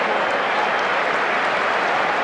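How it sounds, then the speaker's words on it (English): A large stadium crowd applauds steadily as Paul Gascoigne is substituted during a 1992-93 Lazio versus Sampdoria match, a dense, continuous wash of clapping heard close and loud throughout. "it's Paul Gascoigne who is coming off, getting great reception from the crowd"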